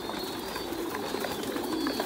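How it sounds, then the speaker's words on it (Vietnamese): Titan Thai meat pigeons, a breeding pair nesting on a pigeon farm, give soft, low cooing that murmurs steadily and faintly beneath background hiss. "Cặp chim bồ câu này đang nuôi con ở bên dưới"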